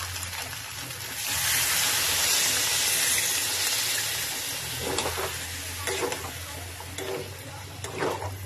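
Water poured into a pan of sizzling Kashmiri aloo dum sets off a loud, hissing surge of steam that eases into a lower sizzle, followed by a few clinks and scrapes of stirring; close, no talking.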